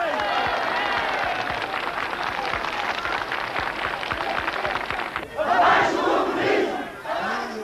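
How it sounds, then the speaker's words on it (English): Large crowd at a 1970s Portuguese political rally chanting and shouting in unison, a loud sustained roar with rhythmic claps underneath, then breaking into separate surging cheers near the end. "Down with communism, responded the crowd."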